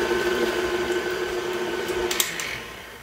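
An electric mixer whirs steadily as it beats egg and vanilla into peanut butter cookie dough, a close motor hum with a couple of brief clatters before winding down.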